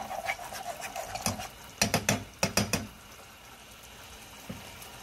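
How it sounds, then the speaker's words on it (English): Tomato paste sautéing with onion and garlic in a pan, heard as light clicking and scraping of stirring with a faint sizzle beneath, including a brief run of quick taps in the middle. "It's about 4 minutes for the tomato to kind of give you like a saute the tomato paste."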